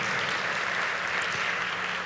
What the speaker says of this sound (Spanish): Aplaudan fuerte en esta hora.